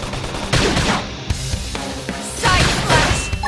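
Gunfire in a Xenoblade Chronicles X battle crackles in dense rapid bursts, mixed with explosive crashes and game effects, loud and continuous over about three seconds with no clear speech.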